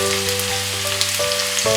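A small onion fries in hot oil in a pan, giving a steady, close sizzle that crackles throughout with no talk.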